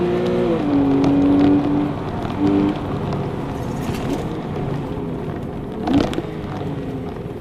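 A Porsche 991 Targa 4S engine revs hard past 5000 RPM, a loud rising howl that climbs steadily before easing off, followed by lower engine drone and a short blip near the end.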